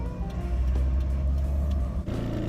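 A car drives along a road with a steady low engine rumble and road noise, close and continuous, easing briefly before picking up again.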